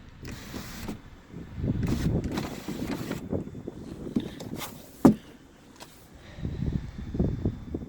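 A power window motor on a 2006 Chevrolet HHR whirs in short bursts inside the car, with quiet pauses and a sharp click between runs.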